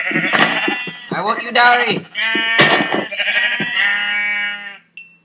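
Sheep in the game Minecraft bleat loudly and repeatedly in wavering, nasal calls that run almost continuously, close and clear, ending with a short high blip.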